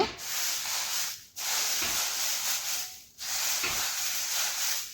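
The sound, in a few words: sieving puffed rice to separate sand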